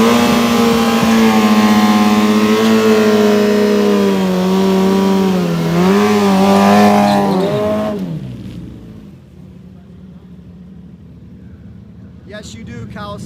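Kawasaki and Suzuki motorcycles at a drag race, their engines roaring loud and close for about eight seconds with rising and falling revs, then abruptly cutting away to a quieter background with faint distant noise.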